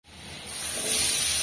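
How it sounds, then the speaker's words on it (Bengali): Potatoes frying in hot oil in a village kitchen, a steady close hiss and sizzle that swells in over the first moments and holds evenly. "আলুটাও ভেজে নেব।"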